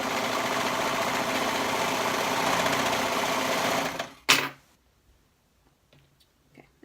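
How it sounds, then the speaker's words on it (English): A sewing machine stitches the shoulder seams of a bodice at a steady, continuous whir for about four seconds. It stops abruptly with a brief clatter, followed by near silence. "we'll go ahead and stitch that with a 1/2 inch seam allowance too"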